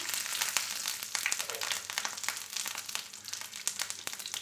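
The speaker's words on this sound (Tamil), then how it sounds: "கடுகு பொரியும் போது கருவேப்பிலை சேர்த்துக்கலாம்" Hot oil crackles steadily as mustard seeds splutter, dense, rapid little pops, close and moderately loud, with no voices.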